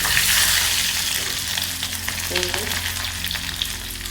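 Garlic sizzling in hot oil in a pan while tempering for drumstick sambar, a steady loud frying hiss with a few light stirring clicks, no voices.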